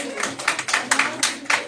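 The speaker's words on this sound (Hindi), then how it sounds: "तालियां बजाते रहे" An audience at a Hindi poetry recital claps in steady, rhythmic bursts, several loud sharp rounds of applause in quick succession.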